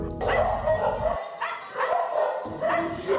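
Several dogs bark and yip at an animal shelter housing dozens of dogs and cats, a busy overlapping chorus that is loud and fairly close, with a brief lull in the middle.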